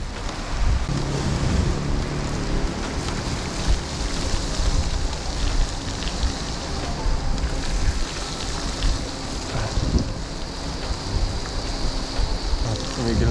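Steady rain patters and hisses during a bike ride near Santa Catalina Beach in Ilocos Sur, a dense broadband wash mixed with wind and rolling noise, close and continuous without speech.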